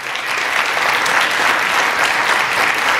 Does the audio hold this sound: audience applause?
yes